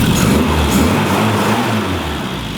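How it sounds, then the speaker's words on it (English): Classic Mini engine idling a little slow with its vacuum advance disconnected, a steady, close, low mechanical rumble that holds evenly for the whole stretch with no voices. "With the vacuum advance disconnected, the engine is running a little slow"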